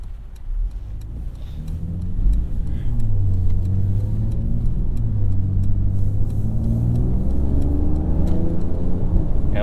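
A 2022 Mercedes-AMG GLE 53 with a mild hybrid system accelerates, its engine rising from a low idle into a steady, loud droning pull with climbing harmonics that holds to the end.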